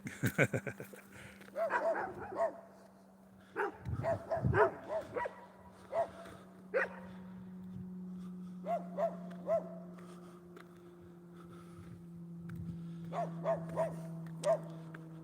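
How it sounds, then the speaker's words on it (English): Neighbourhood dogs bark in scattered bursts at a moderate distance, with a steady low hum running underneath and occasional whimpers between the barks. "Oh, those are dogs."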